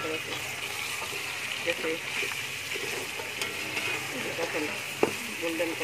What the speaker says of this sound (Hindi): मैं इसके अंदर जो मैंने गोश्त यखनी से निकालना है ना, वो इसके अंदर डाल के मैं घी में फ्राई कर लूँगी